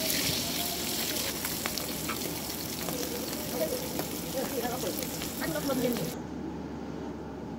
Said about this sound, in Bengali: দেখুন মাছগুলো কেমন ভাবে ভেজে নিচ্ছি লাল করে।